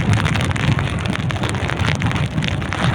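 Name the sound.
rain and wind at sea on a boat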